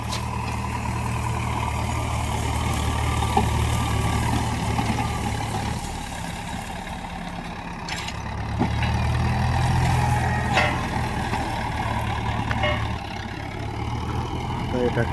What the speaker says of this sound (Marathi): ट्रॅक्टरचं काम चालू झालेलं आहे